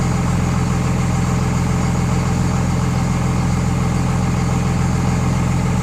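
A 24-valve Cummins diesel engine idles steadily around 850 rpm, a loud, constant low rumble with a fine rhythmic clatter and no talk over it.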